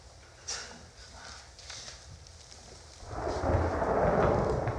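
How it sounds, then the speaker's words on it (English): Thunder rumbles and rain begins, with scattered drops and a few sharp cracks at first, then a louder, dense downpour and deep rumbling surging in for the last couple of seconds. "It's starting to rain."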